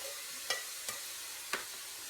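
Browned beef with onions and mushrooms fries in a pan for a cowboy dinner, giving a faint, steady sizzle broken by three soft stirring clicks.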